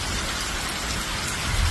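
Heavy rain from Tropical Storm Ophelia pours down on the eastern North Carolina coast in a loud, continuous hiss, with a low rumble swelling near the end.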